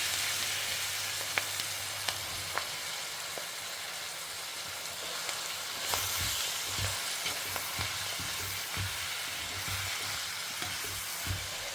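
Amaranth greens with green chillies sizzling in a frying pan, a continuous soft crackle that swells louder about halfway through as more greens hit the hot oil, with occasional light clinks of stirring.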